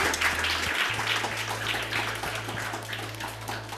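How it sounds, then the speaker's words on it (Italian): Applause from a television studio audience, a dense wash of clapping that holds steady throughout, with a low electrical hum underneath. "Allora, un applauso a Rex Portelati."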